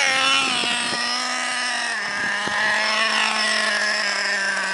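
A Traxxas Revo 3.3 nitro RC truck in very good condition drives nearby, its small engine buzzing loud and high-pitched, with brief revs rising and falling over the steady whine.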